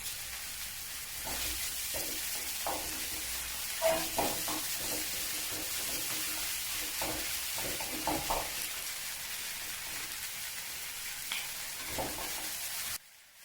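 Curry leaves frying in hot oil while being stirred, a steady soft sizzle broken by scattered scraping and stirring clicks, close and moderately quiet, ending abruptly.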